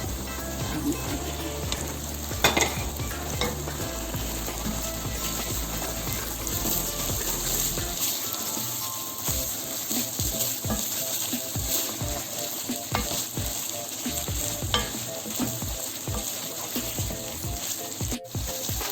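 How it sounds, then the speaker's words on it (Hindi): Minced meat sizzling in a pan with fried onions while being stirred for keema, with a steady hiss and scraping spoon strokes; a tap runs briefly and soft kitchen clatter comes and goes. "अब ये मैं कीमा डालने लगी हूँ। ये हो गई है प्याज।"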